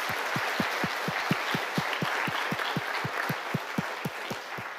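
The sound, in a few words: audience applause after conference presentations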